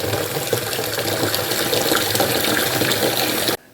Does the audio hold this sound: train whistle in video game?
no